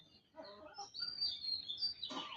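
Desi chickens make soft clucks and higher chirping calls close by, short irregular bursts over a quiet background.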